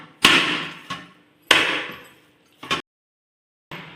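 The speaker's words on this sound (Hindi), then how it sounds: "अब मैं इसे पटक पटक के चिकना करूँगी, इसे इस तरह कम से कम 2 से 3 मिनट।" Pizza dough slammed repeatedly onto a work surface to knead it smooth: a few heavy slapping impacts separated by pauses, each with a short decaying tail, close and loud, with no speech.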